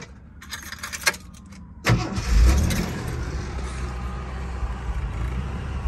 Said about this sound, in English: let's get a quick video of the engine running